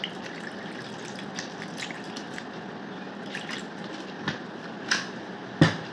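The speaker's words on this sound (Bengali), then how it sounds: "এবার এই বেলের মধ্যে কিছুটা পরিমাণে জল দিয়ে দেবো" Water trickles and drips into scooped-out ripe bael fruit pulp for sherbet, a soft steady liquid wash broken by a few sharper splashes near the end, close and alone with no talking.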